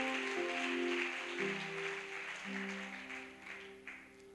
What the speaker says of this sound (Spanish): Aplauda el nombre del Señor.